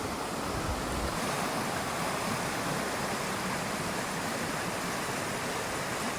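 White River in Washington, milky with snowmelt from the mountains, rushing steadily by a campground as a dense, even broadband roar with no talk over it.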